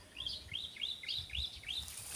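Small birds chirping near a nest in the Philippine countryside, six quick rising tweets in an even run, fairly faint, over a low background rumble.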